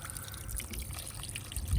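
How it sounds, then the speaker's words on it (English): Leftover water drains from the opened housing of an Intex 11817EG pool pump during impeller access repair, a soft steady trickle and dribble running for under two seconds, close by with no talking. "drain whatever water's left."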